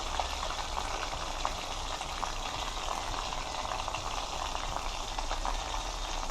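Fish for Jamaican escovitch sizzling in hot oil, a steady dense crackle with scattered pops running unbroken and fairly loud throughout.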